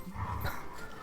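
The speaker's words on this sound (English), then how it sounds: "Apologies for any dog noises in the background." Dogs in the background make soft whimpering and yipping sounds, faint and low, mixed with steady room noise throughout the short stretch.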